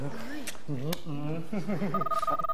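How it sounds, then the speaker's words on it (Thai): Voices talk up close, then a steady electronic phone ring tone starts near the end under the speech. "ขอรับโทรศัพท์แป๊บนึงนะฮะ"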